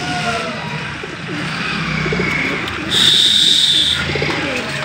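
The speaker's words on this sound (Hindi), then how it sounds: "30 कबूतर है मेरे भाई देख सकते हो आप, उधर जो बैठा है वो कबूतर डब्बाला" Dabbala pigeons coo from a loft of about thirty birds, soft low coos repeating under a thin background hum, with a brief high tone in the middle.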